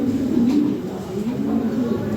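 A pair of Maxi-coloured racing pigeons of a European bloodline coo softly in a low, steady, continuous murmur, close by and without talk.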